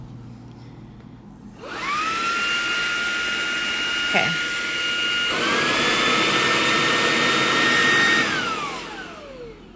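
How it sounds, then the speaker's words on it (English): A Shark Bissell handheld vacuum cleaner switches on and runs loud and steady close by, with a high whine that holds for several seconds, briefly dips, then winds down as it shuts off; a voice speaks briefly over it. "So that's a full-blown vacuum."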